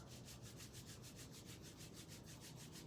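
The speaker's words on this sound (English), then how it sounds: "Rubbing the palms together" Palms rub together in a quick, even back-and-forth rhythm, producing a close, soft swishing friction that repeats steadily without any voices.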